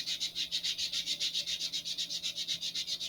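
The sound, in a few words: sanding a model rocket fin with a sanding block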